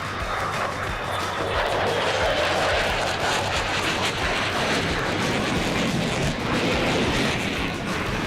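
A Lockheed Martin F-35A fighter jet flies overhead at an air show, producing a loud, continuous broadband roar that fills the whole stretch without easing, with no voices.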